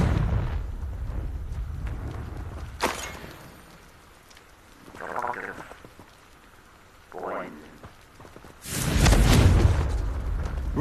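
Confringo blasting spell in the video game Hogwarts Legacy: a loud, sudden blast bursts out near the end, after sharp cracks and a couple of softer magical whooshes over a hissing rain-like ambience.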